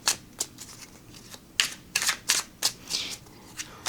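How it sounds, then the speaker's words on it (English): A small tarot deck with a matte varnish finish is overhand shuffled, giving a series of crisp, papery card flicks in an irregular rhythm, close and fairly loud. "They overhand shuffle well."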